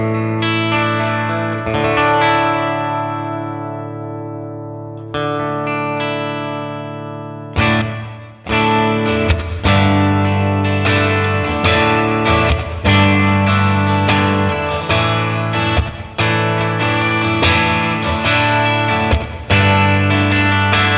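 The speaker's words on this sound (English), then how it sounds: "here is the room reverb on the Context Reverberator" An electric guitar plays clean through the room reverb setting of a Red Panda Context Reverberator pedal, a few ringing chords decaying into a roomy tail before a run of rhythmic strummed chords.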